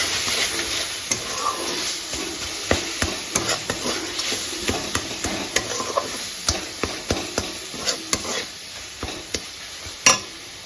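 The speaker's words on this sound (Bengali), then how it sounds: "এবার মশলাটা ভালো করে কষিয়ে নেব" A spice paste with salt and a pinch of sugar sizzles loudly in oil as a spoon stirs it, with repeated scraping knocks against the pan that come faster toward the end.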